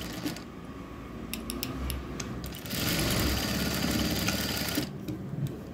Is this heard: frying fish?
no